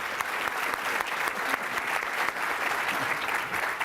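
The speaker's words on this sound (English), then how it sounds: "I would love to invite everyone to give our astronauts a round of applause." At a spaceflight forum event, a large audience applauds the astronauts with a loud, sustained wash of clapping that holds steady throughout.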